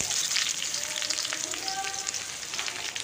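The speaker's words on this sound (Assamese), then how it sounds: "এইফালে মই কেৰাহীত তেল গৰম হ'ল। এতিয়া মই ইয়াত পিঁয়াজখিনি দি লৈছোঁ।" Onions frying in hot oil in a kadai, a dense close sizzle with light crackling that runs continuously through the short stretch, with no talk.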